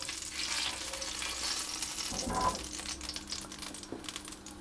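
Courgettes frying in a pan with oil, a steady quiet sizzle with a brief louder rustle of stirring midway and a small clink, close and alone.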